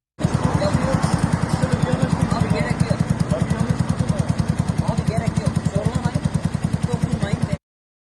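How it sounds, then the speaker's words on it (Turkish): A motorcycle with a loud modified exhaust idling close, its exhaust popping in a rapid, steady throbbing rhythm that continues until it cuts off abruptly. "abartı egzoz sesiyle çevreyi rahatsız eden bir motosikleti durdurdu"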